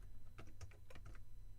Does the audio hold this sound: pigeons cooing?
no